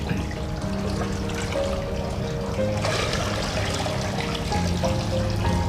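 Water is poured steadily into a homemade filter chamber, a continuous splashing, trickling stream, close and fairly loud, running unbroken for several seconds without talk.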